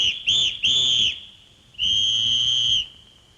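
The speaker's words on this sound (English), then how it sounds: "Mr. Bustle put the whistle to his lips." A whistle is blown in two short blasts followed by one longer sustained blast, shrill and loud at close range, with no voices.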